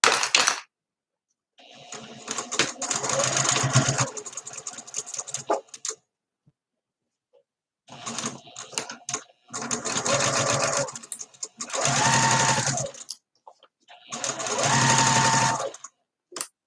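Sewing machine stitching two fabric layers together, running in four bursts of a few seconds each, separated by short pauses and growing steady and loud in the later runs.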